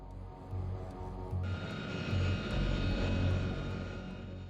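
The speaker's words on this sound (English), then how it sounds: "Grzywna extends the flaps, and Mikolak checks the engines." Aircraft engines drone steadily inside the cockpit of a presidential plane on a foggy landing approach at Smolensk, with a low rumble that swells in pulses and a brighter whine that rises midway, no voices over it.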